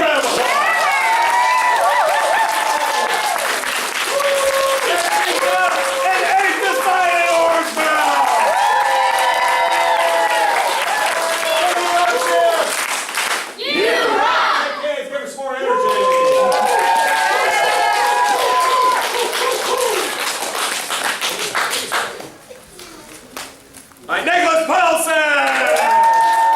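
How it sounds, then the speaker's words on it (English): An audience applauds and cheers at a martial arts belt ceremony at a family martial arts center in Mount Dora: a loud, sustained crowd of clapping and shouts, including children's voices. The noise briefly dips twice and then swells again. "Give her a big round of applause!"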